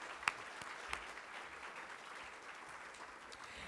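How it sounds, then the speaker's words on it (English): Audience applause at a 50th anniversary celebration for a youth organization, faint and distant, a steady wash of clapping with a couple of sharper claps near the start. "I think that's something that deserves a round of applause."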